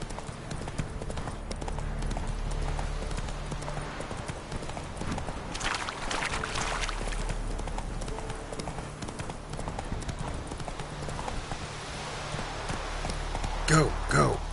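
A horse gallops in The Witcher video game, its hooves drumming in a steady, rapid clip-clop that runs throughout under game ambience, with a voice urging it on.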